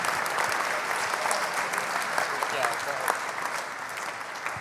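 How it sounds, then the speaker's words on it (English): An audience applauds students at a benefit cook-off, dense continuous clapping that holds at an even level throughout. "Let's give them one more round of applause"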